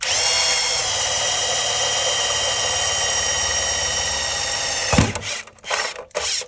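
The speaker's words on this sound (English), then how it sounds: "So now you can see where the holes are going to be drilled." A power drill boring 5/16 holes into trim on a third-generation Toyota Tundra: a loud, continuous high whine that cuts off abruptly, followed by a few short bursts of drilling.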